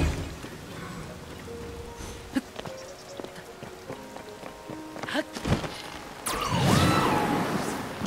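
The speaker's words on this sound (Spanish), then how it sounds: "Llueve muchísimo." Rain falls steadily as a soft hiss in a village in the video game The Legend of Zelda: Tears of the Kingdom, with scattered clicks, thumps and a swelling whoosh near the end.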